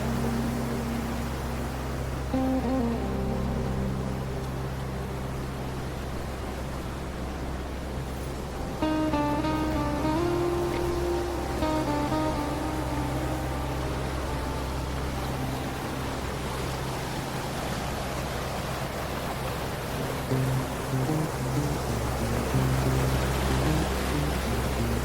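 Heavy water rushes through the narrows of Mill Creek in a canyon in Angeles National Forest, a dense, unbroken roar that stays close and steady throughout, with a few faint tonal sounds over it midway.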